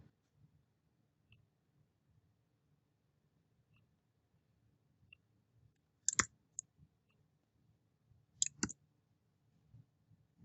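A computer mouse clicks a few times, sharp and close, mostly as two separate double clicks against a quiet office background, with no talking.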